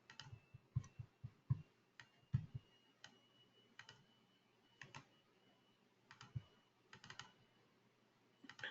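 Keys clack on a computer keyboard in irregular bursts of single taps and quick clusters, close and fairly quiet in an otherwise still room, with no talking.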